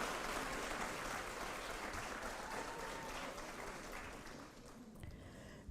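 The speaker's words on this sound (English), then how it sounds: "Let's give a round of applause to our College of Business and Public Affairs graduates" Steady crowd applause for graduates of the College of Business and Public Affairs at an Alabama A&M master's hooding ceremony, heard at a distance and fading out after about five seconds.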